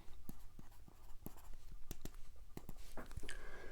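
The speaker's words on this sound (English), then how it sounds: "I'll write it out here." Chalk or marker scratching and tapping on a board in short, irregular strokes, quiet and close, with a brief squeak near the end.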